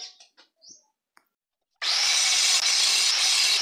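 A few light knocks and scrapes on a wooden piece, then a power tool starts up and runs steadily and loudly, grinding or sanding the wood for the finish, with no voices.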